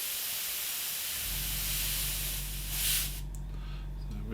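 An airbrush with its trigger locked sprays paint onto a Meng 1/35 scale Terminator model kit: a loud, steady close hiss that cuts off abruptly near the end, over a low, constant compressor-like hum.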